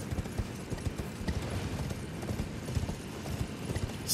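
Horse hooves gallop across the ground in the video game Elden Ring, a fast, steady clip-clop rhythm at moderate loudness that continues throughout.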